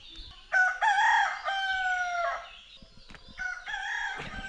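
A rooster crows loudly and close by, one long crow followed by a second shorter one, with no talking.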